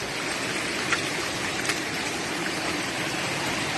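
Water rushes steadily down a waterfall on the Appalachian Trail where hikers are climbing, a close, even, hissing roar with a couple of faint splashes or knocks.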